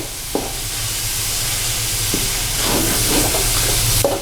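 Chinese fried rice with lemon juice is stirred in a hot pan, giving a continuous sizzle and steamy hiss with a few scraping knocks of the utensil, loud and close, with no talking.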